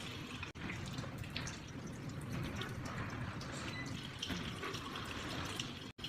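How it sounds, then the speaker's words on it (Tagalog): Water runs steadily off a person's hands and forearms during a surgical hand scrub, splashing into a sink in a continuous, moderately quiet wash with no talking. "water will drain off your elbows, flowing from the cleanest area to less clean area"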